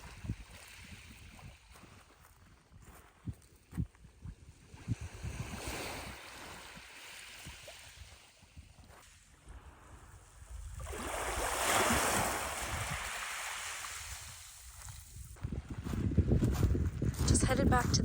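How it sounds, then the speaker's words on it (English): Tide washing in over pebbles and rocks on a beach, a soft continuous rushing and gravelly hiss that swells and recedes, with faint wind and occasional small clicks, close by and fairly quiet. "It's funny how when the tide comes in on the sand, it's super quiet. But over here on the pebbles and the rocks,"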